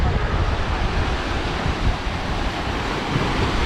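Waves of the Arabian Sea roll in along Marine Drive in Mumbai, a steady, close wash of surf mixed with gusty wind buffeting the microphone, with no voices.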